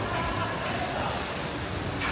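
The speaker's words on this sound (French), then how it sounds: "Regardez comment est-ce qu'il pleut." Heavy rain pours outdoors in the Dominican Republic, a dense, continuous hiss of drops on surfaces, loud and steady throughout, with no gaps.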